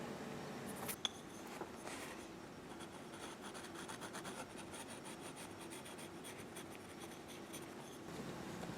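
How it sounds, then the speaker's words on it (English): A pen scratches and rubs steadily across fabric while tracing a rough circle on the inside, producing a continuous close-up scraping rasp with small irregular strokes. "I'm going to try to trace on the inside"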